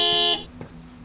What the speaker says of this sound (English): A fucking horn honking.